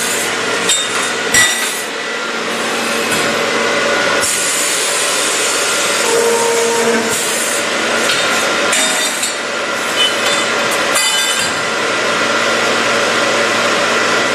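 Scotchman RFA saw trimming the last piece from a metal tube, a loud continuous grinding roar with bursts and shifts in intensity, several sharp clanks from the workpiece, no talk.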